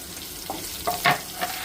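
Onions sizzle and crackle in hot oil, with brief stirring scrapes and clinks rising over the steady frying hiss.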